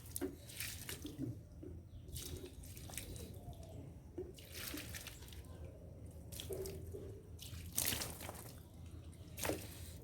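Water runs and splashes over the roots of a banyan tree tower bonsai as they are rinsed, with uneven gushes, drips and squishy handling noises close by and no talking.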